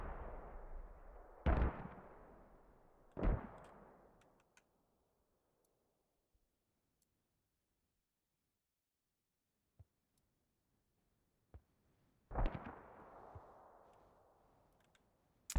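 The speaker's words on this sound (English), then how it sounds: "Mortars rocking the place, Hell Cannon rocking the place" Heavy mortar and Hell Cannon impacts in the tactical shooter Squad: two booming blasts with long rumbling tails, a quiet stretch with faint distant clicks, then another loud boom decaying slowly.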